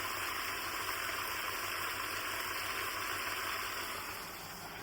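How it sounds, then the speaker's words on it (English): Water is poured into a pan of frying onions and butter, a steady broad rush of liquid that runs continuously and tapers slightly at the end, with no talking. "And then I will add the water"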